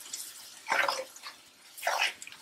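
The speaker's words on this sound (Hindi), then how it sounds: "और थोड़ा सा पानी डालूंगी मैं इसमें" Water is poured in two short splashing bursts into a pan of onions and tandoori masala, a close, brief gurgle each time with a quiet pause between.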